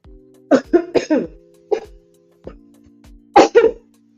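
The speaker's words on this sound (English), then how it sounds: "Having a cough attack." A person coughs in several harsh bursts, some in quick pairs, with short pauses between, close and fairly loud.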